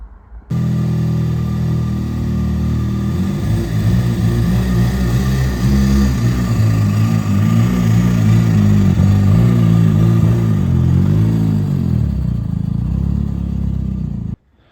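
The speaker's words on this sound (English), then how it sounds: "we got the started up and running, buzzing, absolutely buzzing" Rebuilt GT Advance engine firing up and idling steadily for about fourteen seconds, a loud, close, rough rumble with a faint ticking clatter running through it before it cuts off.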